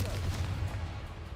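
A Confringo explosive spell cast in Hogwarts Legacy: a short, booming blast with a low rumble that fades quickly, heard alone.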